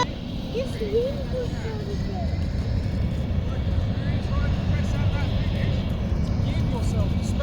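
A continuous low engine drone of an Airbus airliner near a London airport rumbles steadily throughout, with people talking over it.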